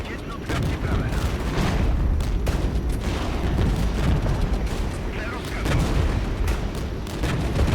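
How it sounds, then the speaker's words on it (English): Rocket artillery fires in the Regiments war game as units fight Dutch armor. A dense, continuous roar of booms and rumbling blasts runs throughout at a fairly steady loudness. "Nice rockets, really nice rockets."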